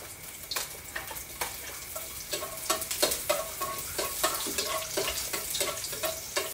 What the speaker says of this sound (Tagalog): Ayan po, gisa tayo ng bawang.